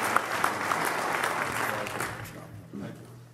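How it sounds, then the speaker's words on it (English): Applause from a conference audience after a talk fills the room, dense and sustained clapping that gradually thins out while voices begin talking near the end. "How about one nice round of more, a nice round of applause for Simon?"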